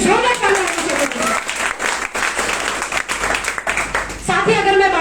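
Audience applause for Dr. Ajay Sharma at an IMC business achiever celebration in Uttar Pradesh, a dense sustained clapping crowd filling the room, with an amplified voice speaking at the start and end.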